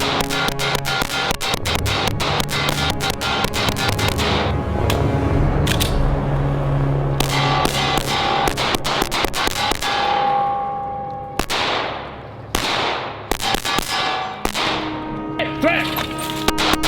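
Rapid shots from a CZ P10c Suppressor Ready pistol on an outdoor range, sharp loud cracks fired in quick strings and irregular bursts, each with a short ringing tail, with shouted range commands between strings.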